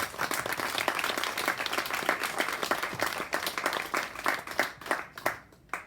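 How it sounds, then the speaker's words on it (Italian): An audience applauds the Cervo family at an evening poetry event, a dense burst of clapping from many hands close by that thins out and fades over a few seconds. "Vi facciamo un bel applauso a sa famiglia Cervo."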